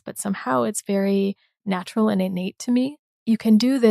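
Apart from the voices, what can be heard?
No everyday noise stands out behind the speech.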